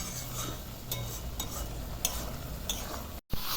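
A spoon stirs rajma (kidney beans) with tamarind pulp in a pan, the mix gently sizzling while the utensil clicks and scrapes against the metal in irregular strokes, close by, with a brief dropout near the end.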